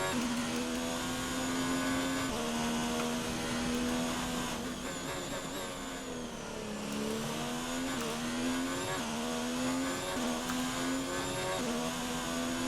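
A Formula 1 car engine in a racing video game, set at the Australia circuit, holds a steady high whine with small pitch dips between shifts, loud and continuous throughout with no talking.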